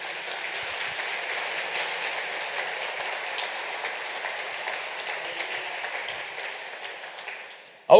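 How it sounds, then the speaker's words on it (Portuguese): Congregation applauding during an evening church service, a steady, dense wash of many hands clapping that holds even for several seconds before tapering off, with a short loud knock at the very end. "Vamos dar um forte aplauso à graça de Cristo."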